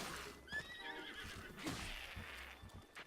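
Epona, a horse in Zelda: Breath of the Wild, whinnies loudly over hoof clip-clops and game background sound, with no talking.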